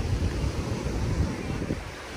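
Surf and gusting wind at a beach form a steady, loud broadband wash with rolling low rumble throughout.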